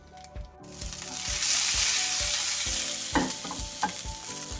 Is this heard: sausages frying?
yes